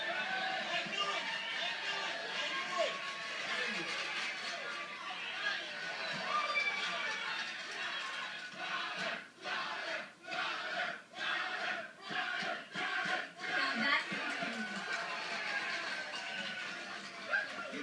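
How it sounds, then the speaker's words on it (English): Movie soundtrack plays in the background of a room, a busy mix of crowd shouting and battle noise at moderate level, with rhythmic dips midway. "sorry about the noise, I should have turned it off, but it's a movie, Let It Ride, with Richard Dreyfuss."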